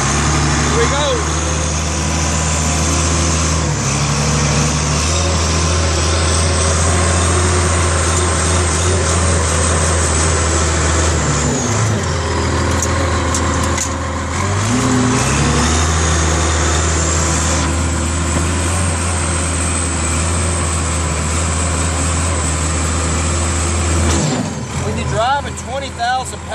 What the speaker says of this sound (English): I've noticed when I'm driving this dozer